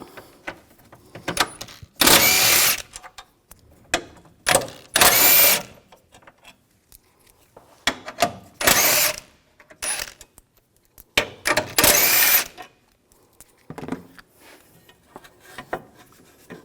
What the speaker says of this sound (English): using a 13mm socket, we're going to take these bolts out